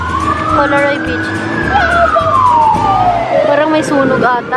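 An ambulance siren passes near the surf at Colaroy Beach, its wailing tone rising and then sliding lower as it goes by, loud and close over steady wave and wind noise.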